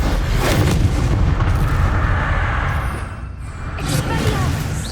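Explosive spell blasts in Hogwarts Legacy fill the mix with loud, dense, rumbling booms that roll on almost continuously, and the blasts swell again near the end.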